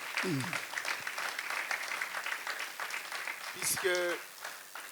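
Tribute applause for a lost personality at a live theatre event, a faint, sustained wash of clapping and crowd noise, with brief voices rising over it near the start and near the end.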